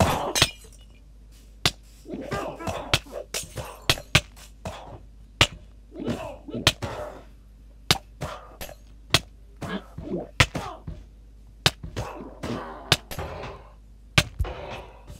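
Iron golems battle in Minecraft, heard as a dense run of sharp metallic clanks and hit sounds with crunchy impacts repeating steadily over a constant low background.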